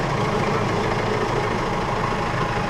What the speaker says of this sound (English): Oh, I have to turn the tractor on.